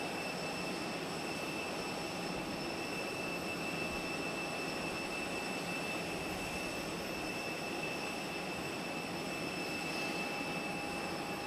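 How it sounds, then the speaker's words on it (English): A Japan Airlines jet airliner at Nagasaki Airport gives off a faint, distant, even engine whine with steady tonal hums, held constant throughout against a quiet background. "So 12:58, Japan Airlines, and he's of course going to Tokyo."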